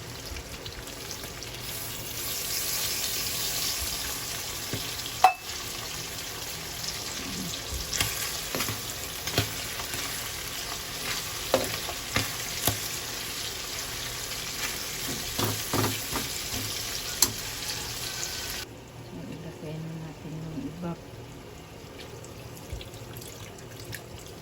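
Mushrooms frying in a pan for carbonara give a steady, moderate sizzle with occasional stirring scrapes and clinks; the frying noise drops off sharply near the end.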